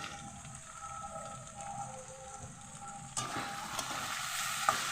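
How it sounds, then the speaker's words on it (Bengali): Potatoes fry in a pan with a soft, continuous crackling sizzle, heard close and fairly quiet, growing a little brighter and louder partway through, with a faint clink near the end and no voices. "আলুটা আমি ভাজা ভাজা করে নিয়েছি"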